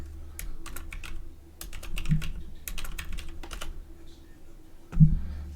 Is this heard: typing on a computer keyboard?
yes